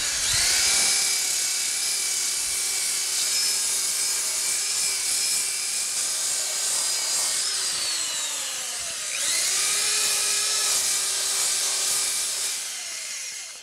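Power sander working a turned wooden bowl, a close high-pitched whine held steady, dipping in pitch as it loads against the wood around the middle before rising again.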